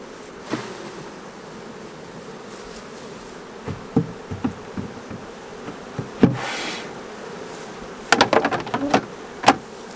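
Honey bees buzz in a steady, diffuse hum around a long hive, with scattered clicks and knocks of frames being handled nearby.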